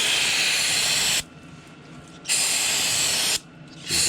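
Aerosol cleaner sprays into the crankshaft area of a Subaru engine in three close, loud hissing bursts, each about a second long and separated by short pauses.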